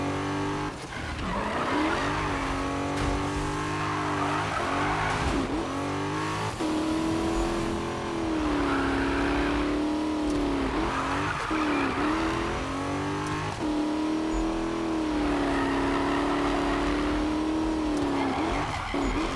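A 1000 hp American car in Need for Speed (2015) drones with a loud, continuous engine note that rises and dips through corners, its tires squealing and skidding repeatedly at about 100 km/h.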